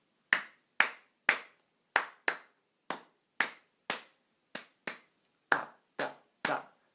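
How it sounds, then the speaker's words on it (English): Hands clapping the basic clave rhythm pattern, alone and close up: about a dozen crisp, dry claps fall in uneven groupings with clear silence between them. "if I just clap out the basic pattern of it"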